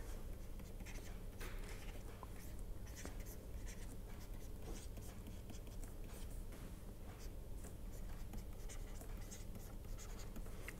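An equation being written by hand, with pen strokes scratching and tapping in an irregular rhythm, quiet and close, continuing throughout.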